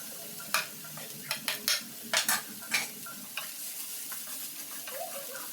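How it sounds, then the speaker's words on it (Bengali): Chopped carrot, beans, capsicum and cabbage stirred in a pan, with a series of sharp utensil scrapes and clinks over a faint sizzle, close and fairly quiet. "একটু নাড়াচাড়া করে নিলাম।"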